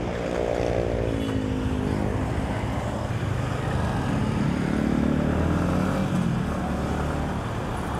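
A Yamaha MT-15 motorcycle rides through the Bintaro area of Indonesia, its engine droning steadily and fairly loud throughout, with broad road and wind noise and no talk.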